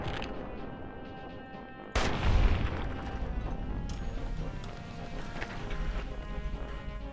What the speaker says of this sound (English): I think he dies just shooting him in the back